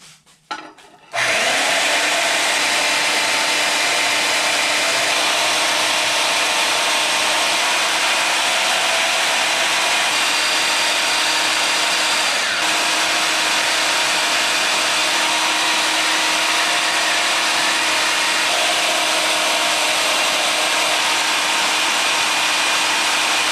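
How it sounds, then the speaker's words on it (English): After a brief start-up, a power tool whines continuously and loudly while cutting the flange out of a lawn mower exhaust, a steady high-pitched grind that holds for the rest of the clip with no talk. "Now we're just going to cut the flange out"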